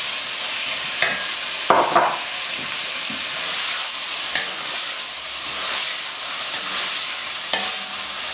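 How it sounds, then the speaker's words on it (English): Tomatoes fry and sizzle in a thick masala sauce with black pepper, with a steady hiss and occasional stirring scrapes and clatters throughout. "After frying these tomatoes for a few minutes in this sauce"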